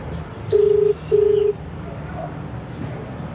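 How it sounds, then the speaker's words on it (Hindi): Two steady electronic tones from a phone on speakerphone as a call is dialed, each about half a second long, clear and close over faint room noise. "आप उसको कॉल मिलाओ।"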